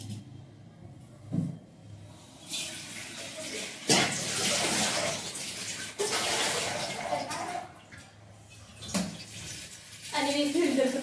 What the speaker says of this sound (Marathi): मी अभी पाणी भरती हूँ